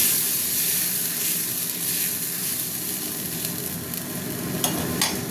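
Mustard paste fries and sizzles steadily in a pan while being stirred, a close, dense hiss with soft scraping and a couple of sharper utensil clicks near the end.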